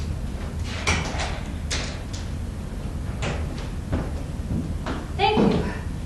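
A door being opened with its chain still on, giving several scattered knocks, rattles and thuds over a low background, with a brief speaking voice near the end.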